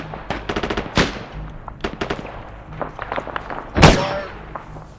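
Bursts of machine gun fire in a military video game, short rapid volleys and single sharp shots at moderate distance with a louder blast near the end.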